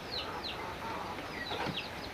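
Pure local desi chickens in a three-tier coop cluck and chirp faintly in short, scattered calls over a soft background hiss.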